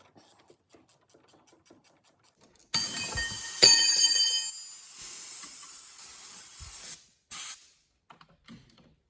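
Penetrating spray hisses onto a seized brake line mount on a 2003 Dodge Caravan front strut, one close steady burst lasting a couple of seconds, tapering off, then a short second spritz.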